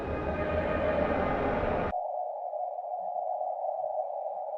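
A harsh, dense distorted synth tone plays loudly for about two seconds, then abruptly narrows through a bandpass filter into a thin, hollow midrange buzz that sustains steadily to the end, with no talking.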